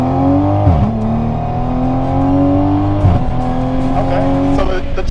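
Toyota Supra MKV pulling hard under acceleration, engine note rising then dropping sharply at two quick upshifts about two seconds apart, loud and close from inside the car.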